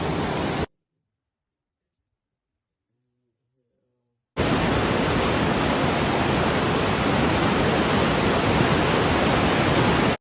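Flash flood water rushing in a loud, steady broadband roar, cutting out into near silence for a few seconds before surging back at full, constant strength.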